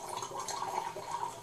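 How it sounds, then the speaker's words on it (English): Hot water poured through a coffee filter into fresh Sidama Ardi coffee, a faint, continuous trickling and dripping stream with soft liquid splashes. "So now I pour my water out."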